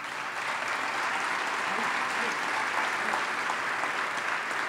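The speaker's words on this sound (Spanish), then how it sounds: "renovamos el aplauso para" A crowd applauds at a sports awards ceremony, sustained even clapping filling the room at moderate volume for several seconds without a break.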